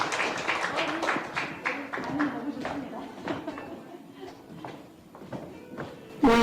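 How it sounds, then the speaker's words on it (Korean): An audience at a Korean civic forum claps to welcome a speaker, a dense burst of applause that thins into scattered claps and fades, followed by a sudden louder sound at the very end. "뜨거운 박수로 맞아주세요."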